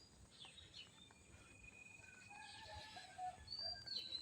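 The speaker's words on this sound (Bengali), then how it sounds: "আসলে ফজরের পর পাখির গুনগুন আওয়াজ" Birds chirping outdoors in the cool early morning just after dawn, with scattered high calls and tweets over steady faint background ambience, growing a little busier toward the end.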